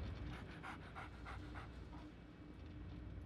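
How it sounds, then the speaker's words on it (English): Dog in the video game Fallout panting rapidly, a rhythmic series of close breathy huffs that fade toward the end, faint and alone. "Look at my dog!"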